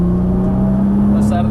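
A Nissan GT-R on a race track at full throttle: a steady, loud engine drone with a strong sustained tone under an instructor's voice coaching over it.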